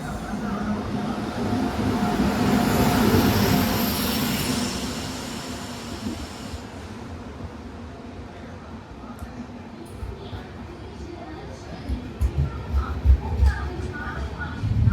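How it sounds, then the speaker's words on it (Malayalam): A train rumbles loudly as it pulls in, then the noise eases into quieter clanks and knocks, with voices talking nearby. "ട്രെയിൻ ഇവിടെ എത്തിയിട്ടുണ്ട്"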